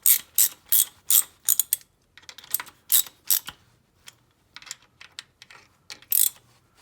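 Hand ratchet clicking in short bursts as connecting rod cap bolts are tightened a little at a time on a Land Rover Series 2A engine, close and crisp with pauses between strokes, no talking.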